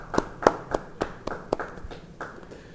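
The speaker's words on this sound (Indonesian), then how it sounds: "beri tepuk tangan yang meriah buat Tuhan" Sparse clapping from a church congregation at a Bible study, a handful of distinct, fairly quiet claps spaced irregularly over a few seconds.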